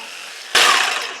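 A Ryobi P5231 jigsaw bites into 3/4 inch thick pine, starting abruptly after a quiet moment with a loud, bright buzzing rasp that holds steady and close for the rest of the moment.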